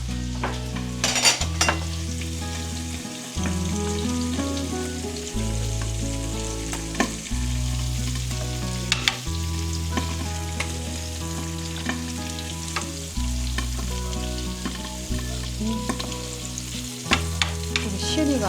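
Abalone innards sizzle in butter in a pan, a steady frying crackle running throughout, broken up by repeated stirring scrapes and occasional utensil clicks, with music playing underneath.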